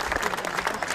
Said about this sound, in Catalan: Els aplaudiments del molt públic que s'ha congregat aquí al nucli de Pujal